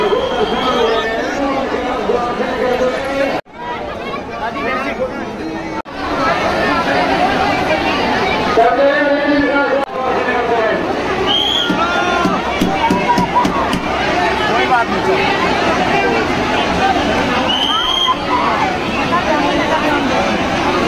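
A large crowd packs Barsana village, with dense, loud, continuous chatter and babble up close and nearer voices speaking over it throughout.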